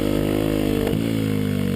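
A Kawasaki KLX250 dirt bike engine revs hard and close as the rider clutches up a wheelie, a steady buzzing drone that briefly drops in pitch midway as the clutch engages and load hits.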